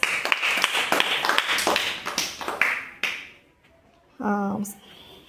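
Children in a Telugu class clap together after a pupil names a word card, producing a quick run of loud, ragged claps for about three seconds before they stop and a voice speaks.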